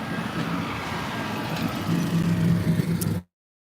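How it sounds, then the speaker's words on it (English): A tractor engine rumbles steadily while driving across a 12-acre property, a close, continuous low drone that cuts off abruptly. "They won't be able to hear me over the tractor."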